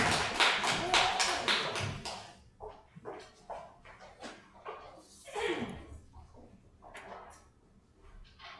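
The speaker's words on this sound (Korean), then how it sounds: "한 번 더 박수를 쳐주시면서 선포하십시오" A church congregation claps together after a hymn, a dense burst of hand claps for about two seconds that quickly thins into scattered taps and a few voices.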